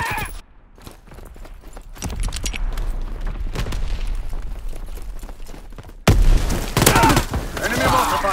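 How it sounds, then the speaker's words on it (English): Enemy mortar fire in the World War II shooter Call of Duty WWII: loud battlefield explosions and booms over scattered gunfire, growing heavier and closer partway through, with voices shouting in the mix. "Enemy mortar fire incoming!"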